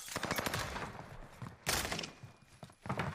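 Rapid bursts of gunfire in the Warzone Caldera battle royale game, with clusters of sharp shots and a louder volley midway, mixed with game sounds and occasional voices of players.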